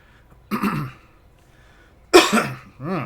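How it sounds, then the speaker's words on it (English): A person coughs nearby, a short throaty cough followed after a pause by a louder, harsher cough and a brief clearing of the throat, alone without speech. "I've had a bit of a cough all day."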